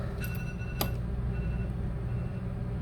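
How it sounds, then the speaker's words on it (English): A phone alarm goes off in a cell phone repair shop: a few short bright electronic beeps, the loudest near the middle, sound over a steady low background hum. "That is someone's alarm going off."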